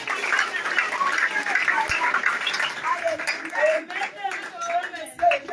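A church congregation at a Sunday service claps in a steady wash of applause to acclaim the Lord, with voices and singing rising within the clapping throughout.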